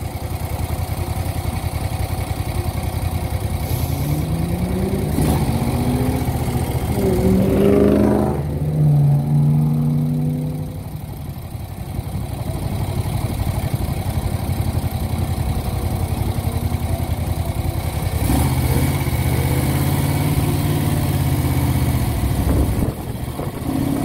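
A 1970 Moto Guzzi Ambassador motorcycle engine drones steadily, rising in pitch through a few gear shifts with brief dips between them, close and continuous under wind-like noise.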